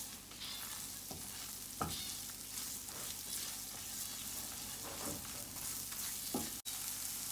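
Chopped onion cooks in a pan with a soft, constant sizzle, close and fairly quiet, broken by several light stirring scrapes and taps, with no talk.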